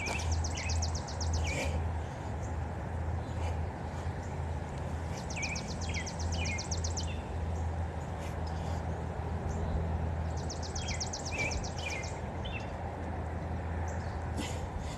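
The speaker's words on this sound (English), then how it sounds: "The birds be singing" Birds singing outdoors in a quiet place, faint repeated chirping phrases at a distance over steady low background hum, with no talking.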